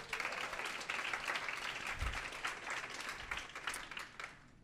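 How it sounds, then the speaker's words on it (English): A room of attendees at a machine learning lightning talk and panel night applauds the events team, continuous moderate clapping that fades out at the end. "I think we should give them a big round of applause"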